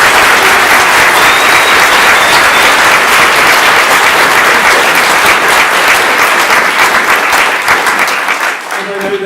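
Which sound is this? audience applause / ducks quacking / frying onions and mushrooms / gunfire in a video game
audience applause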